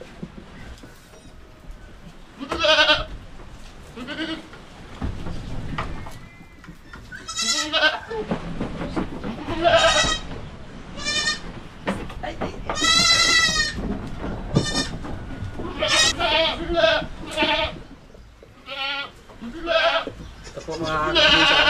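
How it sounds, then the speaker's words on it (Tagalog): Two young goats bleat repeatedly on a farm in the Philippines, with high wavering cries coming close and loud in irregular bursts over about twenty seconds amid some background noise. "Napaka-cute sa ating dalawang kambing dito"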